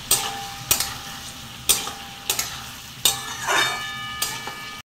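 Chopped onions and tomatoes fry in a hot pan for a home-cooked chicken curry, with a steady sizzle and several sharp clatters of stirring and ingredients dropping in.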